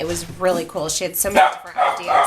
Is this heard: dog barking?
yes